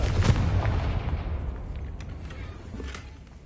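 A Confringo blasting spell goes off in a video game, a deep booming explosion at the start that rumbles and fades over a few seconds.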